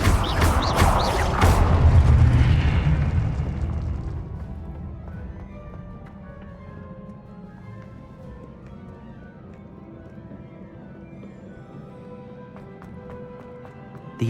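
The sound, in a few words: Confringo blasting spell explosion from a video game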